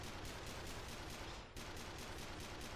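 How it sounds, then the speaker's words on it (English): Rapid, continuous gunfire from the Colonist gun in the Earth Defense Force World Brothers video game forms a dense, unbroken rattle that drops out for a split second mid-burst and then resumes, loud and with no voices. "The shots don't move at a great rate of speed, so enemies can move out of the way of them."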